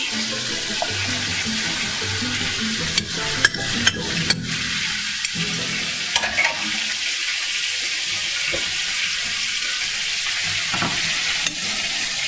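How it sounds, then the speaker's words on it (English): Sliced peppers go into a sizzling pan for chicken cacciatore: a loud, continuous close sizzle with several sharp utensil clacks and stirring knocks scattered through, and no talking. "We're going to add our peppers."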